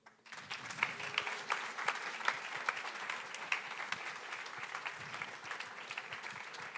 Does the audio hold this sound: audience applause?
yes